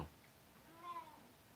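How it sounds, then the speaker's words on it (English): A needy house cat lets out a single faint, rising-and-falling meow against a quiet room background. "Cat's being very needy."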